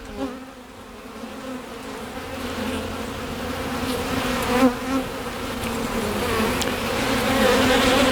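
Honey bees buzz in an open hive box, a steady close drone that holds throughout and swells slightly toward the end.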